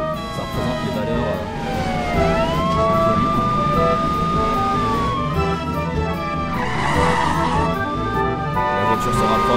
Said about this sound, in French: La voiture se rapproche, le volume augmente,